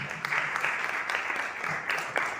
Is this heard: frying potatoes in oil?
no